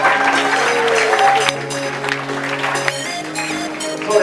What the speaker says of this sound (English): Give a round of applause to Jake.